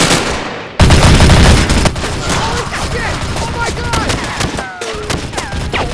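Rapid gunfire and explosions as a sound effect in a toy-soldier battle, a sudden dense burst of shots followed by continuing volleys, with shouting voices over the firing.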